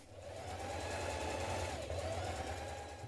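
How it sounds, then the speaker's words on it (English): A sewing machine runs a steady line of top stitching close to the edge of a denim jeans piece, a continuous even whir with a low motor hum, near and moderately quiet. "close to the edge we're going to stitch a line of top stitching down either side"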